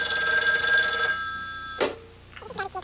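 A telephone bell rings loudly in a shower massage advertisement, one long sustained ring followed by a short click and a few faint tonal chirps, with no talking.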